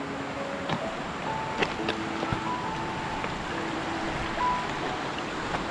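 A mountain-fed river rushes steadily in rural countryside, a continuous broadband wash of flowing water heard close by, with occasional faint knocks and no talking.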